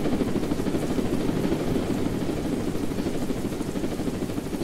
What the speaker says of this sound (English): That's not your heli, so don't try.